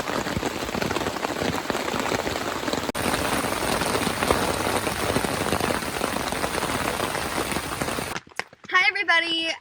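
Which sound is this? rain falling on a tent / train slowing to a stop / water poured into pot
rain falling on a tent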